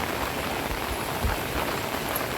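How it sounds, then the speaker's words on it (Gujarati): Heavy rain pours steadily in a dense, even hiss with no pauses, close by and loud, during a thunderstorm. "વરસાદ આટલા દાડાથી નહોતો પણ આજે આવે છે 15મી ઓગસ્ટના દાડે"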